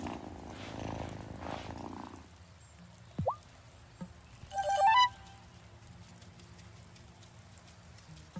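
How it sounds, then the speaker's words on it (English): A cat in the video game Wylde Flowers purrs softly and steadily, followed by a few brief game chimes and a light sparkling effect, all fairly quiet. "Aw, who's a good kitty?"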